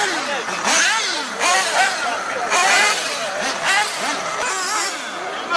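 Several 1/8 scale four-wheel-drive nitro RC buggies with 3.5cc nitro engines buzz and whine around a race track, pitches rising and falling as they accelerate and pass, loud and continuous, with a voice talking over them.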